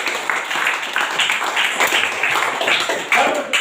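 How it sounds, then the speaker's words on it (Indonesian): Classroom of students clapping for a classmate, a steady crackle of many hands applauding together throughout, fairly close and lively. "Kita tepuk tangan untuk Melin."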